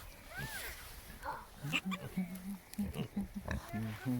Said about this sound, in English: Oh, Santa, you're a funny pig.